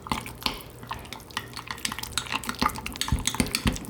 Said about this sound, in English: Then we're just going to mix that with a spoon